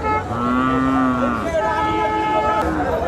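A local deshi bull at a Bangladeshi village cattle market lets out one long, close moo, with the murmur of the market around it.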